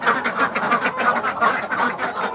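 A flock of ducks quacks loudly and continuously inside a barn in the morning, many overlapping nasal calls forming a dense, close chorus with no pauses.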